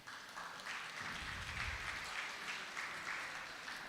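An audience applauds at a law faculty event celebrating the life of Justice Chris Jafta, a faint, steady wash of clapping that continues for a few seconds.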